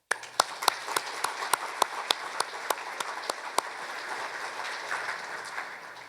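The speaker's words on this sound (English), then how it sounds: "I'd like to give them a round of applause." An audience at an electric cooperative's annual meeting applauds linemen: a few distinct, evenly spaced claps ring out near the front over a broader spread of clapping that gradually softens toward the end.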